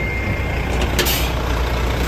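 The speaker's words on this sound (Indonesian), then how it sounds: "So aku sekarang dah naik bus. Inilah bus dia." Bus at a bus station in Cork, Ireland, a loud, steady engine rumble up close with a brief hissing burst of air brakes partway through and no talking.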